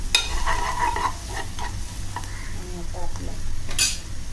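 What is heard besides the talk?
bitter gourd sautéing and being stirred in a pan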